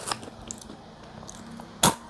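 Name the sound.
crunchy snack being chewed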